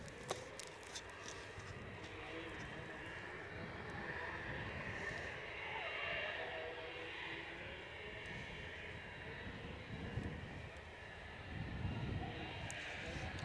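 An inbound EasyJet airliner from Belfast on approach to Edinburgh Airport makes a faint, distant, continuous jet drone that swells slightly and fades.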